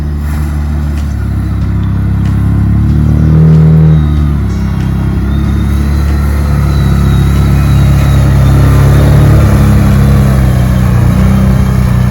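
Tow truck engine in a boggy yard near Charlottetown, Labrador, running loud and close while hooked to a tree, a heavy steady rumble that rises and falls with revs, no talking.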